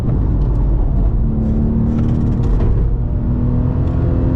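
Porsche 997 GT3 phase 2 flat-six on a track day, heard from inside the car as a loud, continuous engine drone with rising and falling revs and no talk.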